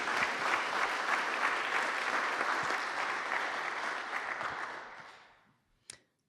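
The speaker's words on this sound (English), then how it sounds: "Give him a round of applause." A conference audience applauds after a presentation: steady, dense clapping close by that holds for about five seconds, then fades out, ending with one sharp final clap.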